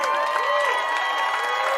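Ceremony crowd on the Hollywood Walk of Fame cheering and applauding, a steady dense wash of clapping and whoops with tonal voices rising through it, close and continuous.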